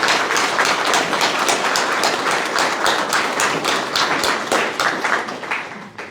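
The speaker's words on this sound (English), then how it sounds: "give a round of applause to all our families and family members that sit on us" Steady, dense applause from a dinner audience honoring families at a county public safety appreciation awards banquet, many hands clapping continuously, loud and close, tapering slightly near the end.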